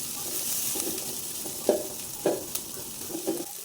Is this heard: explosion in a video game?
no